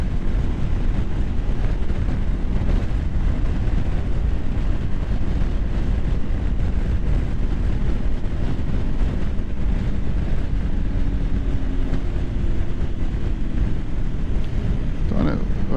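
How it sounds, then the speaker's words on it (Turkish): Steady, loud wind roaring across the microphone at an open, elevated spot for the whole stretch, a continuous buffeting rush with no one speaking. "Rüzgar başladı."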